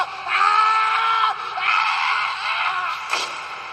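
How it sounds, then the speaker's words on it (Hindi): A man, a writer in a horror tale, lets out a single loud, sustained scream that wavers and falls off, followed by a sharp thud near the end. "कुछ देर बाद लेखक की एक जोर से चीख सुनाई देती है"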